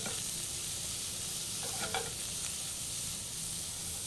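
Garlic frying in olive oil in a pan gives a steady, close, even sizzle that holds at the same level throughout, with a faint brief rattle near the middle and no talking.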